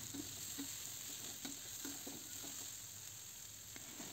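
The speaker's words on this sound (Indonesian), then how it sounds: "Kita tumis juga sampai matang dan layu." Shallots sauté in a pan for a stir-fry of papaya leaves, giving a faint, steady sizzle with soft, regular taps of stirring.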